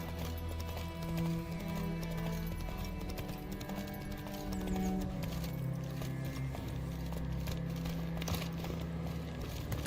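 In The Witcher 3 video game, the horse Roach gallops with a steady, rapid clip-clop of hooves, moderately loud, over a low ambient background with no speech.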